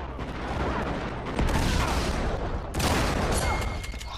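Dense gunfire from a video game shootout with SAS 12 and MAG 5 weapons fills the mix: rapid overlapping shots and bursts, loud and close, with a sharper volley near the end.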